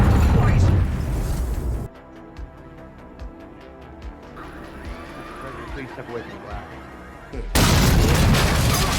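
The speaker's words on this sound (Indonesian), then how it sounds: "ledakan terjadi dari lobi hotel." A film-scene explosion tears through a hotel lobby: a loud, dense roar opens the clip, gives way to a quieter stretch of scattered rumbles and debris-like clatter, then a second heavy blast surges at the end.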